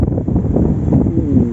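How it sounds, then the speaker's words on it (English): Wind gusting across a microphone on a windy summer day near Split, Croatia, a loud, continuous low rumble and buffeting that stays close and fills the moment without speech. "Ooh, that wind is nice."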